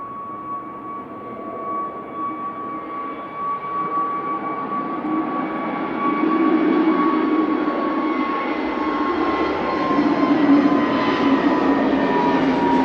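An Airbus A320neo airliner bound for Oslo powers up for takeoff at Manchester Airport, a broad steady jet roar with a whining tone that swells louder midway and holds strong to the end.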